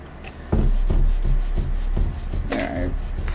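Pyrography burner pen pulled across wood, a series of close, rhythmic rubbing scrapes repeating about every half second, fairly loud with a brief denser stroke near the end.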